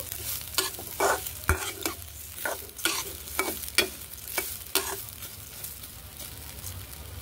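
Cashews, green chillies and peanuts fry in a pan with a soft sizzle, while a spoon strikes and scrapes the pan in a string of sharp, distinct stirring clacks, with nobody speaking.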